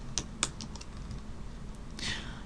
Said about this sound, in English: As soon as I start typing something, that disappears.